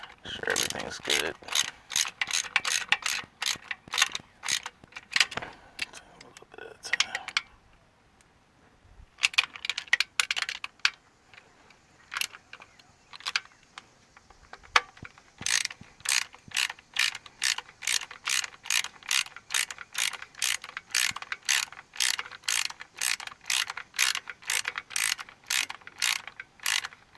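Ratchet tightening the starter bolts on a 2007 Pontiac Torrent, long runs of rapid close clicks broken by short pauses and single clicks, ending in a steady fast series.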